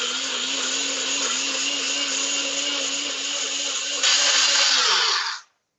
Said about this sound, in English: So it's gonna be a little noisy because I'm gonna blend it right here.